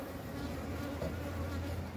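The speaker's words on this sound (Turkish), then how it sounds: "Arı güzel çalışıyor." Honey bees buzzing at a hive where they are being fed syrup, a dense, steady drone of many wings close by that holds evenly throughout, with no voices.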